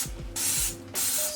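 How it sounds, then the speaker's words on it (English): A spray bottle of bleach and Dawn dish soap cleaner fires two bursts of hissing mist, each lasting about half a second, close to the microphone, with faint clicking of the trigger mechanism. "So spray some of that in there."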